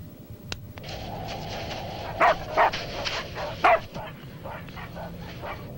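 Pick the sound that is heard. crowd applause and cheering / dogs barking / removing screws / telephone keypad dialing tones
dogs barking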